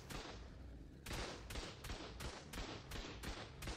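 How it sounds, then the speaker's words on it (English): A cannon fires repeatedly in a base-raiding video game, roughly nine sharp booming reports in a fairly regular rhythm after a short gap, loud and close, with no talk. "That cannon is doing a lot to me."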